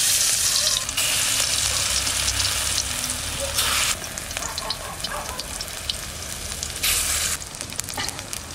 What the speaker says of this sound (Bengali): সরষের তেল দিয়ে এবার বড়াগুলো ভেজে নিই